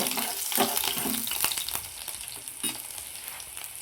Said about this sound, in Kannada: ಚೆನ್ನಾಗಿ ಫ್ರೈ ಆಗಲಿ.